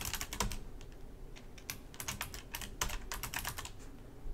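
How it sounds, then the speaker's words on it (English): Keys on a computer keyboard clatter in dense, uneven bursts of typing, fairly close and moderately quiet against a faint background hiss, with no speech. "I cannot type today."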